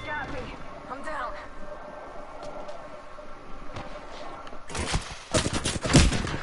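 Gunfire in the Apex Legends video game, scattered shots under talking voices early on, then bursts of rapid, loud automatic fire crowding the final seconds.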